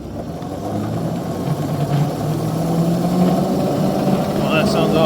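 A diesel locomotive runs in a cold-weather repair shop after its burnt traction motor has been replaced, its engine droning steadily with a rising hum and building slightly louder toward the end.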